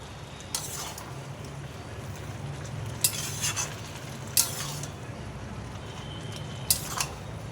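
A spoon stirs a curry of bottle gourd and raw lentil fritters in a pan, a soft, faint sizzle underneath with a few sharp scrapes and clinks of the utensil.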